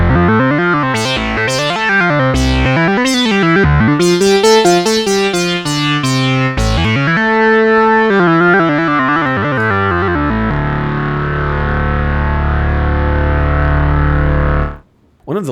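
A thick, buzzy Memorymoog synthesizer tone with all 18 oscillators layered, sweeping through rapid pitch wobbles and swoops, then settling into a sustained dense drone that cuts off abruptly near the end.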